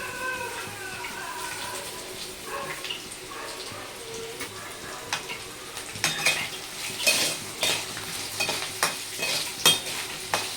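A tempering for pulihora frying in a pan with asafoetida and curry leaves, giving a soft steady sizzle with clinking utensil stirring and pan scrapes that grow louder and busier toward the end, without speech.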